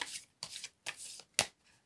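Tarot cards are drawn and handled in four short, crisp bursts of shuffling and sliding, close and clear with pauses between, the last burst sharpest.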